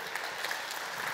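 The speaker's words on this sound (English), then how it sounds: "Please give him a big hand of applause." Audience applause for a guest taking the stage at the DrupalJam 2022 conference, a steady, even wash of many hands clapping throughout, moderately loud and unbroken with no talk over it.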